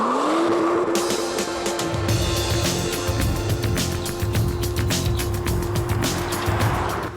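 A BMW M2 Coupé drives at speed on the Moulay El Hassan circuit, its engine note rising steadily as it revs, loud and close, with a sustained roar and rapid gear-driven pulsing throughout.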